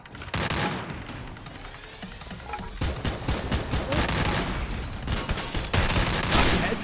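Rapid bursts of gunfire in the battle royale game Free Fire, dense overlapping volleys and automatic fire crackling loudly and almost continuously, with brief gaps between salvos.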